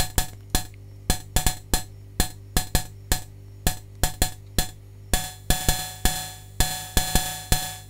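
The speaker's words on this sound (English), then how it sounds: "Then we have the output of my hi-hat module from the previous video" A DIY drum machine hi-hat module sounds dry and unprocessed, short metallic ticks in a rhythmic pattern over a steady low electronic hum, getting busier and denser toward the end, with no talk.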